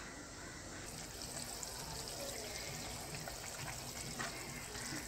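Water comes to a boil in a cooking pot while rice rava upma is being made, giving a steady, continuous bubbling hiss at an even level throughout, with no talk.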